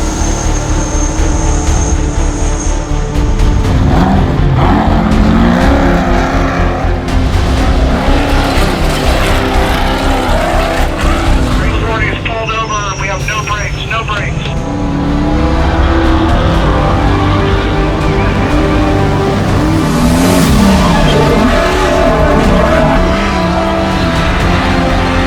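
An off-road race truck roars through the Baja 500 desert race, its engine loud and sustained with revving surges and shifts, a brief squealing, fluttering passage midway and no voices.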